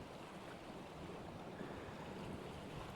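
Wind blows at a North East shore in Northumberland, a steady broadband rush mixed with surf-like noise and microphone buffeting, faint overall with no talking.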